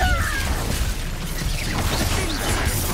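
Confringo and Depulso spells cast in Hogwarts Legacy give a loud, dense wash of crashing, bursting blasts with whooshing debris, continuous and busy for the whole stretch.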